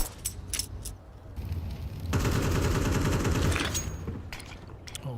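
Rapid bursts of gunfire from a professional Counter-Strike match at the StarLadder Budapest Major, a sustained loud spray in the middle, with sharper shots before and after.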